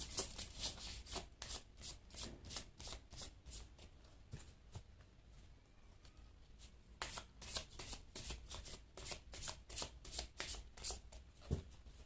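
Oracle cards shuffled by hand, producing rapid, repeated riffling and flicking bursts close by, quiet overall, continuing with brief pauses throughout.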